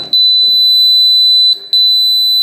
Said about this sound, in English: let's see if the alarm sounds